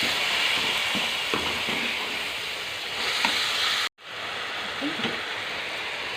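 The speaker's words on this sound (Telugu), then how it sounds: "టమాటా ముక్కలు వేసుకుందాం. వేసుకొని బాగా కలపండి." Tomato pieces sizzle in a pan with ginger and garlic, a steady close frying hiss broken by occasional stirring scrapes, with a brief dropout near the end before the sizzle resumes.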